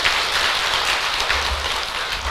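A temple congregation gives steady applause at the close of a Buddhist dharma service, a continuous wash of many hands clapping at even loudness with no talking over it.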